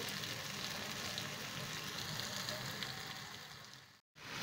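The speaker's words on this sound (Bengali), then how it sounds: "এবার ভালো করে এটা তেলের সঙ্গে কষিয়ে নেব" Spice paste frying in oil for a rohu fish curry, a steady soft hiss of sizzling that slowly fades before a brief gap of silence near the end.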